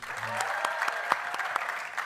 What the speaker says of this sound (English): Please round of applause for Basi.